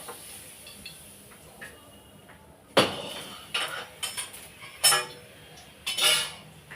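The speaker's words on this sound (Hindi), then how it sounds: "अब देखिए हम कढ़ाई जो है ना हटा देते हैं" A kadhai wok is lifted off the stove with several metallic clinks and clanks, close and moderately loud, against a faint hiss in a quiet kitchen.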